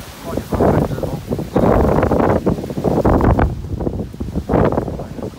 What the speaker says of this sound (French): là, c'est un rafale de vent